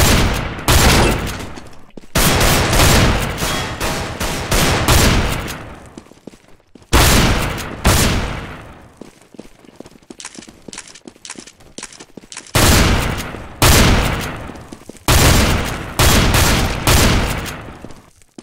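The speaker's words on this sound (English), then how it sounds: "This is the worst shotgun duel ever." Shotgun blasts fire back and forth in a Counter-Strike duel, loud, close bursts in uneven clusters separated by short gaps, with no voices.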